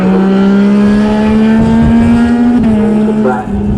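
Racing sidecar outfits blast through the bomb hole at a road race, engines screaming loud and close in a sustained high-revving drone that shifts pitch as they pass, with a brief dip near the end.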